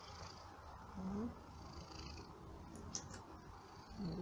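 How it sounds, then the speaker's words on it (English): Low, rhythmic purring from a nearby cat at a cattery during grooming, steady and soft, with a brief voiced sound rising over it. "You've got such a lovely loud purr"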